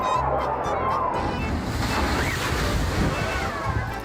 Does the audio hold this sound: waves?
yes